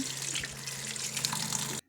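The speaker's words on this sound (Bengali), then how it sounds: "আমি এখানে ঠান্ডা জল দিয়ে নিচ্ছি" Cold tap water runs over drained pasta in a strainer, a steady close splashing flow for nearly two seconds before cutting off abruptly.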